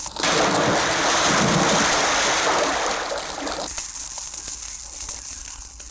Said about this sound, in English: The wolf had dived down the chimney right into the pot of boiling water.